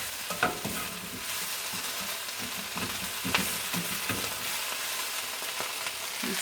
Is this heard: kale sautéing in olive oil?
yes